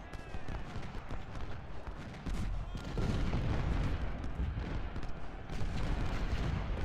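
Artillery and gunfire rumble through a Civil War battle in Ultimate General: Civil War at Chickamauga, a dense, continuous barrage of booms and crackling shots with no clear gaps.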